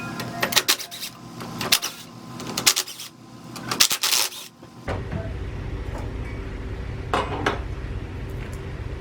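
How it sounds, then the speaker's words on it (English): Four 10mm bolts come off a transmission control module on a 2001-2006 Chrysler Sebring or Dodge Stratus, with sharp metallic clinks and rattles through the first half, then a steady low hum with one more clink later. "Alright, so now I'm just going to remove these four 10mm bolts."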